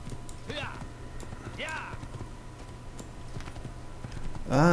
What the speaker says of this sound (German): Galopp!